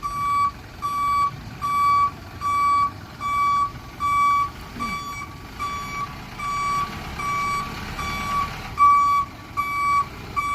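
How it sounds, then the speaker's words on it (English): A truck's reversing beeper repeats steady, evenly spaced shrill beeps, loud and close inside a makerspace, with a low rumble under it throughout. "can't hear you over the beeper"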